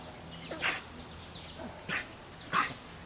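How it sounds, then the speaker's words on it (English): A dog barks three times, sharp and spaced apart, somewhat distant and fairly quiet over a soft background hum. "that's my dog helping us out with sound effects."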